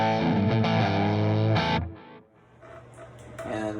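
Electric guitar played through a Suhr Hombre or Cutthroat Down Brownie amplifier with jumpered channels, a loud sustained distorted chord ringing out, then cut off, followed by quieter picked notes building back up.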